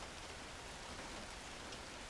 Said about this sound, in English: There is nothing else to do but listen to the rain from the comfort of home.